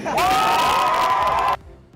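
A large crowd on a college campus cheers and shouts loudly for over a second, a dense roar with whoops that cuts off abruptly.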